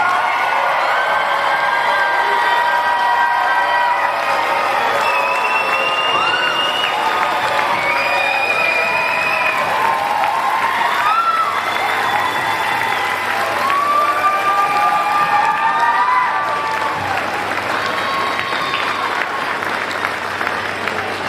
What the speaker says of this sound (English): please join me in a round of applause as I present to you the class of 2024